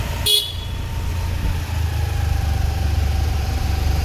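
A scooter rides forward through street traffic, a short sharp horn toot sounding near at the start over the steady low hum of engines and passing vehicles.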